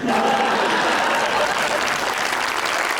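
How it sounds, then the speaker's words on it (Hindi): A studio audience, mostly women, applauds on a Pakistani TV talk show; steady, dense clapping fills the room at close range for the whole stretch without a break. "और सब तालियां भी जो बजा रही हैं वो सारी मेजरली खवातीन ही हैं"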